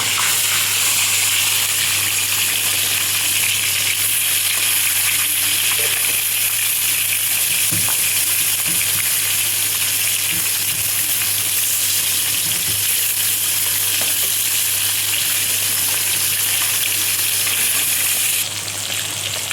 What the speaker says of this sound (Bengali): এবার আমি মাছটাকে উল্টে দেখি ভাজা হলো কিনা